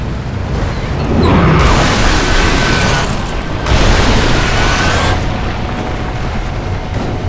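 Tank rolling across a frozen lake in Gears of War 2, a loud, continuous heavy rumble with deep booming swells that rise and fall over several seconds.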